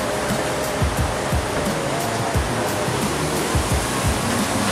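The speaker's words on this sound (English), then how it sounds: "And look at the waterfalls!" Steady, roaring rush of falling water fills the air, a constant broadband wash with low rumbling underneath and no pauses.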